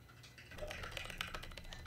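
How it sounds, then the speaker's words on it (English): Rapid keyboard typing with irregular clicks, fairly close and steady across the short stretch, with no talking. "There's a lot of typing involved in playing a DVD."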